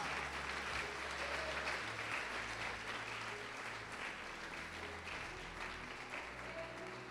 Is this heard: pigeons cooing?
no